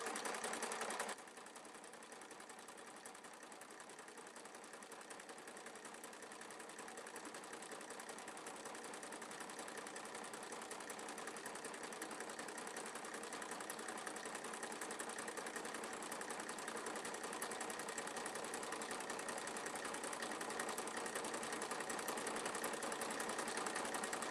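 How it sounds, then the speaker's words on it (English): A sewing machine stitches a cosmetic bag with a front pocket, running steadily and continuously at close range for the whole stretch after a brief quiet start, with no talking. "We are sewing a cosmetic bag tonight."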